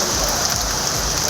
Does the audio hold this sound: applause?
no